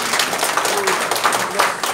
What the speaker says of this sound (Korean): 이 박수로.